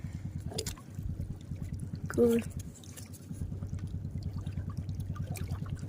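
Freshly caught river shrimp from the Sundarbans are swished and rinsed in water, a steady rhythmic sloshing and pouring that runs through most of the clip, with a brief louder splash and a short break midway.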